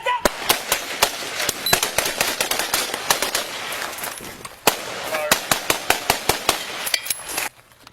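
Rapid gunfire from a police body camera during a shooting in Pasco, a long run of sharp, loud cracks in quick bursts over about eight seconds, with shouting voices mixed in.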